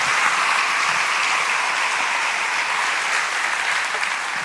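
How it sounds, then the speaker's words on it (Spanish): A church congregation claps loudly and continuously, a dense wash of applause for the Lord that holds steady without a break and without voices on top. "Le da un aplauso al Señor,"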